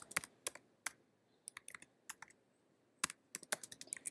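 Keys clatter on a computer keyboard in quiet, close bursts of quick typing, separated by short pauses, as a quote is typed out.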